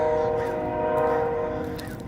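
A train horn sounds in a sustained, steady chord at a moderate distance, heard over rumbling outdoor background noise for the whole stretch.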